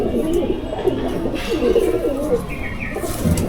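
Pigeons in a champion racing loft give soft, continuous low cooing, several birds overlapping at close range with a steady murmur and faint background chirps throughout.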